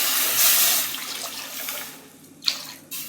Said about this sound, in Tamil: தண்ணி ஊற்றிக்கலாம்.